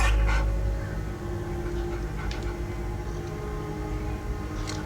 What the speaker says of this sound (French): J'ai trouvé ce petit chiot en train de pleurnicher tout seul dans une maison.